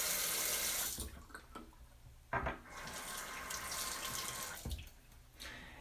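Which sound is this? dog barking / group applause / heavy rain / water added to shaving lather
water added to shaving lather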